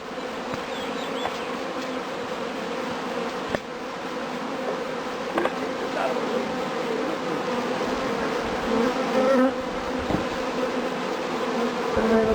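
Honeybees buzzing steadily at a hive entrance in spring, workers fanning and flying in with pollen; a dense, continuous drone with individual bees passing close, rising slightly louder toward the end.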